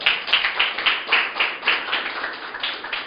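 A church congregation claps together in rhythmic bursts of applause during a Spanish-language sermon, steady and fairly close, with no voices over it.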